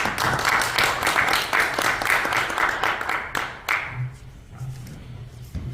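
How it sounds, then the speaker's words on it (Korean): Church congregation at a revival preachers' training session applauding to welcome the visiting head pastor, a rhythmic burst of clapping that fades after about four seconds, leaving scattered claps and a low hum. "힘내시라고 박수로 같이 맞이하시겠습니다"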